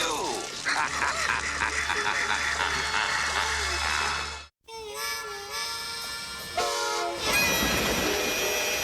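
A cartoon train in Biker Mice From Mars rumbles past with a clacking, dense roar and a blaring horn, briefly cut off midway and then resuming louder, with voices and effects mixed in.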